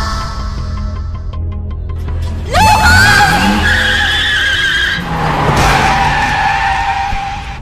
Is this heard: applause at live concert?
no